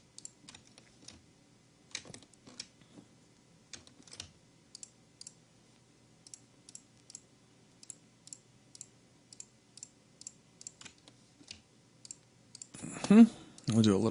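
Mouse clicks selecting faces in 3ds Max, a sparse run of soft, close single clicks spread out with pauses between them, ending in a short louder burst of noise.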